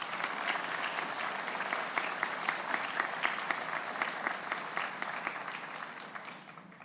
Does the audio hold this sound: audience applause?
yes